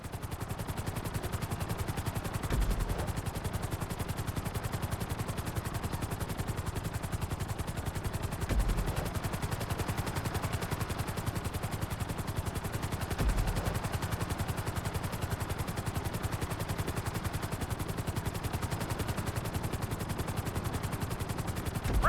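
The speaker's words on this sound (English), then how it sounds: "Bring the helicopter down gently onto the helipad." A Grand Theft Auto V helicopter flying at a flight school, its rotor beating in a fast, even chop that holds loud and steady the whole time, with no voices.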